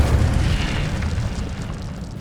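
An Incendio fire spell in the video game Hogwarts Legacy, a deep roaring whoosh of flame that bursts loud at the start and rumbles on, slowly fading.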